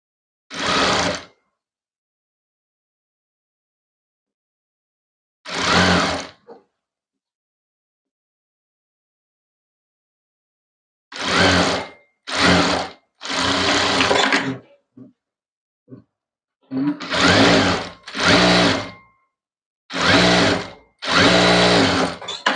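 A sewing machine stitches a saree being converted into a maxi dress with a dupatta, running in several short bursts of steady whirring separated by silent pauses, loud and close.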